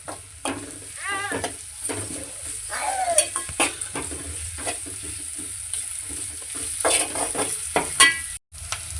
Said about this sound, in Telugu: అల్లం వేసి కొంచెం అంత నూనెలో పోతే, అల్లం వేసినాక కొంచెం మంచిగా నూనెలో పోలాలి